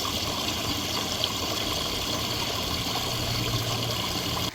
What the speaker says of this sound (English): The waterfalls are flowing right now, looking gorgeous and sounding gorgeous.